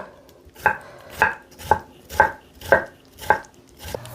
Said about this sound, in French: On vient faire des petites lanières comme ça de concombre et après on le coupe en petits morceaux.